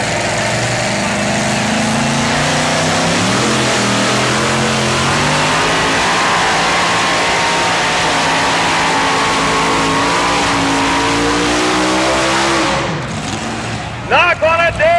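A red El Camino pickup called the Midnight Express tears through a two-wheel truck contest at a 1987 TNT motorsports event in Raleigh. Its loud engine drones steadily, the pitch climbing and falling for a long stretch before it cuts off and a brief announcer voice comes in.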